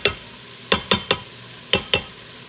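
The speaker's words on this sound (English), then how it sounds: "this is really the hardest part here, is browning up your meat" Ground meat browns in a pan, scraped and stirred with a utensil in a few sharp, close strokes, in pairs and singles, over a faint sizzle.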